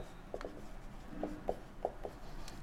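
Marker or chalk strokes on a board during a physics lesson, a handful of short scratchy touches spaced irregularly, quiet and close with a faint room hum behind.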